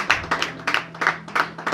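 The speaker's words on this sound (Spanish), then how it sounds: "Dale un aplauso al Señor" A church congregation claps in a loose, uneven rhythm, with bursts of hand claps rising and falling close by and no voices over them.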